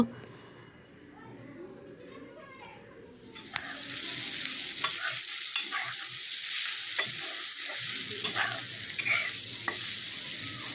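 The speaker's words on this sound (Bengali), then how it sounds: "পটলগুলো ভাজার সময় নুন হলুদ পেঁয়াজ রসুন সব কিছুই একসাথে দিয়ে ভেজে নিতে হবে" Pointed gourd fries in a pan with salt, turmeric, onion and garlic, a loud steady sizzle that starts abruptly after a quieter opening, with scraping stirs and clicks of a spatula close by while someone talks over it.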